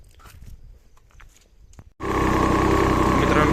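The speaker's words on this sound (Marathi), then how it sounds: "मित्रांनो चालू केले पंजे, ट्रॅक्टर चालू केला." A farm tractor with a cultivator attachment in an orchard starts up after a stretch of faint handling noise, then runs as a loud, steady, close engine roar.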